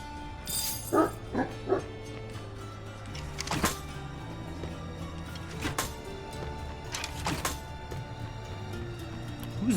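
A dog barks and yips a few times in the video game Vigil, the sharp barks fairly clear over a low, steady game ambience, followed by a faint whimper.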